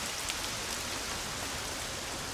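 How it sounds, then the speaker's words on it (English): Steady rain pours down in the video game Lost Odyssey, a dense, even hiss of falling drops on surfaces that holds at a constant level with no voices over it. "it's raining!"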